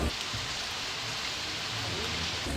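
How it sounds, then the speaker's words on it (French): Steady rain falling outdoors on a rainy day in Mallorca, a dense, continuous hiss of drops on surfaces that stays even and fairly loud throughout, with no voices. "sauf que là, il pleut."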